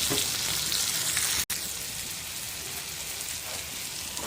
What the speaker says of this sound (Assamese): এতিয়া এইখিনি অকণমান ভাজ খালত বিলাহী দি দিছোঁ।